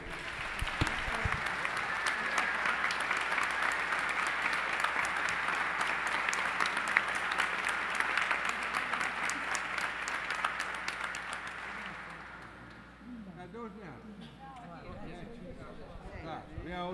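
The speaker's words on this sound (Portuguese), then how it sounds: "Vamos dar uma salva de palmas legal para quê?" A crowd applauds at a solemn session for the Tiradentes Medal ceremony, a dense, steady roar of many hands clapping for about twelve seconds before tapering off into murmured voices and scattered noise.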